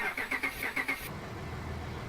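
A truck engine in Farming Simulator 19 cranks with a quick series of starter pulses, then catches and settles into a low steady idle, heard alone and close.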